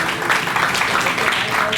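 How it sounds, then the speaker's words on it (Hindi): An audience applauds continuously and evenly throughout at an Indian classical music event in Banaras, with a steady wash of clapping at moderate loudness. "जोरदार तालियां"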